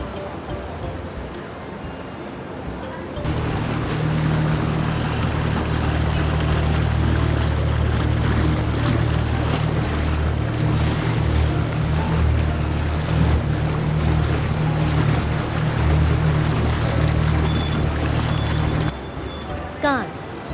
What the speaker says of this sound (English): Rowboat.